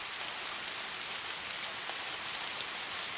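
Steady rain falling on a surface, a dense, even hiss of drops with no pauses or voices, constant in loudness throughout.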